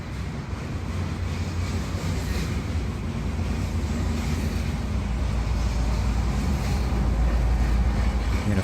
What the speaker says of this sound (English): How about we have just one set of train noises?